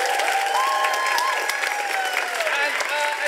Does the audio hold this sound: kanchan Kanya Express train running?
no